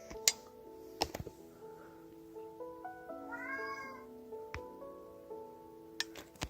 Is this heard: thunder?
no